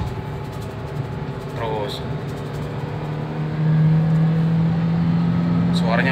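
2015 Toyota Avanza engine pulling in second gear, a steady close cabin drone that grows louder and settles into a stronger hum as it accelerates, with someone speaking briefly over it.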